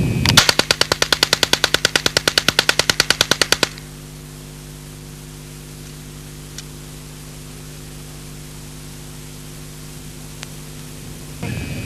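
An Alan Halla 1977 experimental low-recoil submachine gun fires steel-cased, South African-made 123-grain ammunition in one rapid, loud burst of about twenty-five evenly spaced shots. Steady hum and hiss follow, with no talk.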